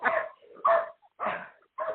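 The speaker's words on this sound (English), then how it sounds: "It's another dog." Four sharp dog barks in quick succession, fairly close and moderately loud, with brief silent gaps between them and no voices.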